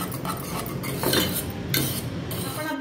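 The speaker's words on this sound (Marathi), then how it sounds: "तरी मी त्याला थोडं अजून स्मॅश करून घेते।" Cooked dal being mashed in a pot with a small wooden ravi churner, giving a steady run of soft wet squelches and light scraping clicks against the vessel, close and continuous with no talking.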